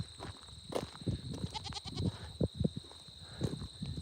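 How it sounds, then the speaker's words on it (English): Goats bleat in short bursts while being led on a walk outdoors, several calls scattered over a steady background hum, at moderate distance. "We are just going for a little walk with the goats."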